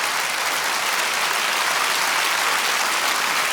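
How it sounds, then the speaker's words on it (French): A stand-up comedy audience applauding, dense and even clapping that fills the room steadily without a break and with no voices over it. "Vraiment, vous m'avez applaudi"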